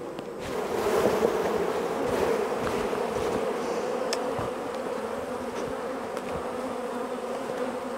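Honey bees hum densely and continuously around an open, queenless hive during a honey pull, a close, steady swarm drone with faint clinks of equipment.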